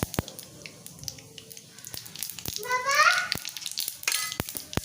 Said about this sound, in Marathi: दोन चमचे तेल टाकले मी कढईत तेल तापले मोहरी घालायची जिरे